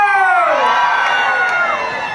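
A crowd cheers and shouts together at a ceremony in a cemetery in Chachoengsao, with whoops and children's voices rising and falling in one steady, loud wall of sound.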